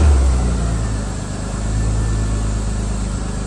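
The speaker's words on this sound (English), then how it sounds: "and I will try to start her up." A BMW M Coupe's S52 straight-six, just fitted with new spark plugs and ignition coils, runs at a steady, smooth idle after starting, a close continuous low engine drone with no talking.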